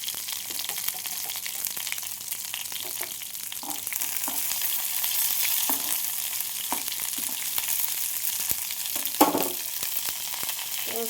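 Cumin seeds and dried red chilies sizzling in hot oil for tempering give a steady crackling fry with scattered pops and faint stirring clicks, close and continuous.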